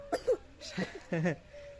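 A child coughs in a few short, separate bursts, close by, with a small voice in between; quiet background.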